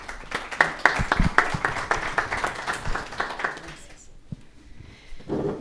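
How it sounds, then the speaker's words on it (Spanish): Sparse applause from a small audience at an Ecuadorian panel discussion, with separate, uneven claps from a few people that die out after about four seconds, followed by a brief sound at the end. "Un aplauso, por favor."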